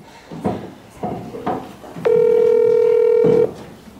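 Outgoing phone call ringback: a single steady electronic tone lasting about a second and a half, close and clear, preceded by faint soft knocks and handling sounds.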